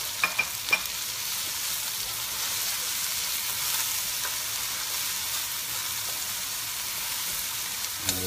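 White onion and garlic sizzle and fry in a pan, a steady close crackle with a few light utensil taps at the start and end.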